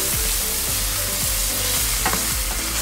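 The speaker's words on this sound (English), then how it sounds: "Nice little sizzle there." Bacon sizzles and crackles steadily in a hot pan, a loud continuous frying hiss with scraping stirs and occasional pops, no voices.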